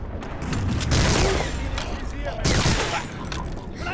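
Machine gun fire in Medal of Honor Allied Assault, a sustained loud burst of gunfire with booming impacts across the whole stretch, mixed with game battle noise.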